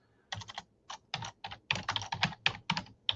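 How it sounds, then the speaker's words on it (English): Fingers type on a computer keyboard while entering text into a webinar chat, a close, crisp run of irregular key clicks in short bursts with brief pauses, no voices. "So I'm typing in the chat now."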